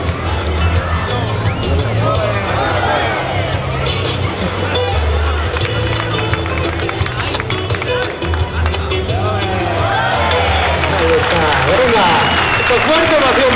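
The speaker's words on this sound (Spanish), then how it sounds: "¡Fuerte ovación para él!" A strong ovation for a student at a bullfighting school's heifer-testing event: sustained clapping and crowd noise filling the whole stretch, loud and close, with shouts and voices mixed in.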